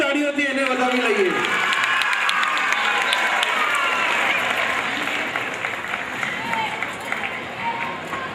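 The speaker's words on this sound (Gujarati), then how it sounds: "જોરદાર તાળીઓથી એને વધાવી લઈએ" A crowd at a charity donation event for Swami Vivekananda's birthday bursts into sustained applause, dense clapping that carries on steadily throughout, with a voice speaking briefly at the start before the clapping takes over.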